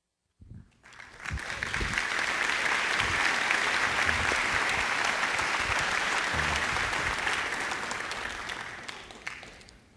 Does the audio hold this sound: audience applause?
yes